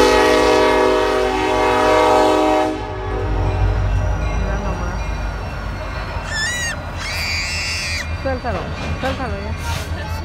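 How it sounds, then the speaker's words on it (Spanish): A loud train horn blasts steadily as a train passes close by, with rumbling wheels and rattling cars underneath, then a high squealing whine rises near the end. "él tiene que pitar para que las personas se muevan donde están y él pase"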